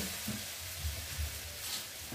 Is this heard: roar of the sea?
no